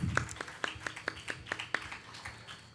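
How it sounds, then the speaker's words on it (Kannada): Audience applause for the chief guests at a Bharatanatyam ranga pravesha, a run of about seven sharp, evenly spaced claps over a low room murmur, moderately close and fairly quiet. "ಜೋರಾದ ಚಪ್ಪಾಳೆಯೊಂದಿಗೆ ಕೃತಜ್ಞತೆಗಳನ್ನು ಸಲ್ಲಿಸೋಣ"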